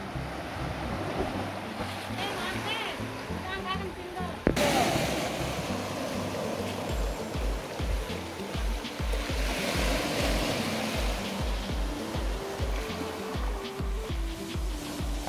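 Waves wash against a rocky stone beach, a steady roar of surf with gusting wind buffeting the microphone and a sudden louder surge partway through.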